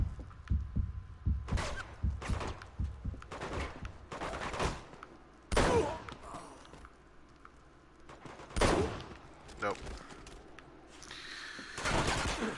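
Heavy weapons fire in the video game Uncharted 2 inside a monastery, sharp gunshots and bursts crack out at uneven intervals with loud reports and pauses between them.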